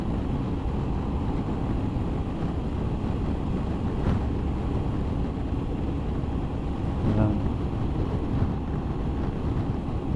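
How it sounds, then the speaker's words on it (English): Strong gusty wind roars steadily across the microphone while riding a Honda ST1100 motorcycle on a blustery day of roughly 25 mph winds, a loud continuous rumble with occasional buffeting bursts and no speech. "it is a very blustery day. It's probably about 25-mile-an-hour winds."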